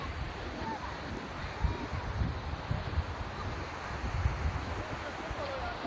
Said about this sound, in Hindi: ये बेहतरीन आबशार यहाँ पे बह रही है